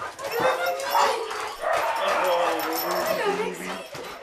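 Several excited dogs yip, bark and whimper together in a busy, chaotic burst, close and loud, with people talking over and among the animal noise.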